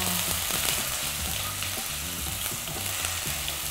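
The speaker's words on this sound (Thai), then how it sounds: "เราจะทอดเต้าหู้ก่อนเพื่อความกรอบ" Tofu frying in a pan of hot oil while purple pad Thai is cooked, giving a steady, dense sizzle that runs close and unbroken throughout, with a low background hum beneath.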